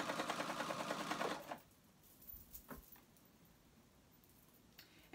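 A sewing machine bastes a flounce onto a tee, running in a fast, steady mechanical rattle for about a second and a half and then stopping, followed by faint fabric handling and light clicks.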